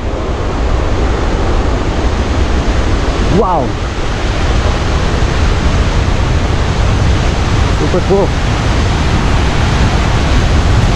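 Fast-flowing river water rushing loudly in a constant roar, with wind buffeting the microphone; people exclaim excitedly over the noise.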